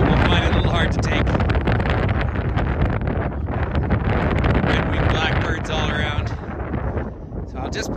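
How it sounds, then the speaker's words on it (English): Strong wind gusts buffet an open outdoor site at Head-Smashed-In Buffalo Jump in Alberta, a steady loud roar with microphone rumble across the whole stretch and a slight easing near the end. "And almost always windy. Now, I happen to like the wind."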